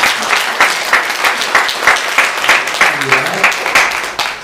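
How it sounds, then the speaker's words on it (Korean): A church congregation claps for members' birthdays during a Sunday service, a steady dense patter of many hands filling the room with a faint voice joining near the end. "우리 모두 다 박수로 축하해 주십니다."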